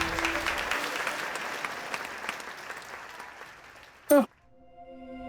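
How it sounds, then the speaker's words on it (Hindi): A dense wash of clapping fills most of the clip, then breaks off abruptly after a short loud burst, leaving a faint tonal hum. "जोरदार तालियां गाइस, कम ऑन एवरीवन"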